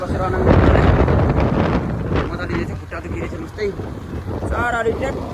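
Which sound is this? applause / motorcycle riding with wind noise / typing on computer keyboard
motorcycle riding with wind noise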